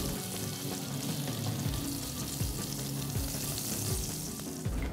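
An egg sandwich grilling in butter on a pan gives a close, continuous crackling sizzle with faint low knocks, and no one speaks.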